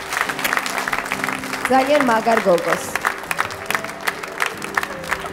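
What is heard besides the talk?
audience applause for Kalda Chincharauli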